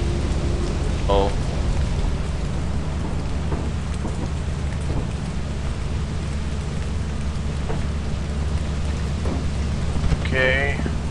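Steady rain pours with a low rumble of thunder beneath it in the video game Lethal Company, a constant wash of noise broken by a couple of brief voices.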